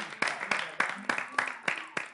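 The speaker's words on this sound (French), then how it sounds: "On applaudit la Miss au pantalon noir." Hands clap in an even rhythm of about eight sharp, quiet beats, with a voice faintly present between the claps.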